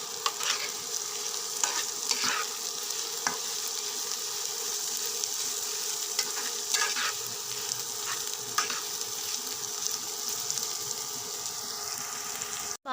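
Green chilies, onion and garlic frying in a pan, cooked before chepa shutki (dried fish) is added. A steady close sizzle continues throughout, broken by repeated spatula scrapes and clinks.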